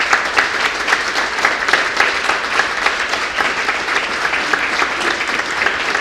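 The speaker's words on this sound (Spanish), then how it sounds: "Denle un fuerte aplauso a Dios." A church congregation at a Sunday celebration service breaks into loud, sustained applause, a dense and even roar of many hands clapping that lasts about six seconds.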